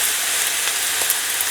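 Dark soy sauce sizzling in a hot pan for chicken fried rice, a steady bright hiss that fills the moment, close and fairly loud with no talking.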